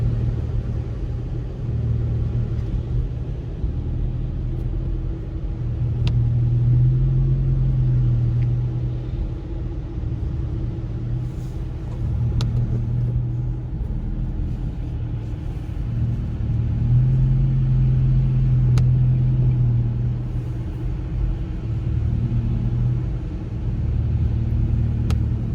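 Road traffic in snowy Big Bear City, California, where a slow truck holds up a line of cars: a steady, loud low engine rumble that swells and eases as vehicles creep along, with faint clicks over it.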